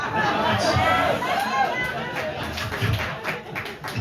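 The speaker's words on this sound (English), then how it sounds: "That's the applause." Applause from a stand-up comedy audience, a dense steady patter of many hands that holds for several seconds with crowd chatter mixed in.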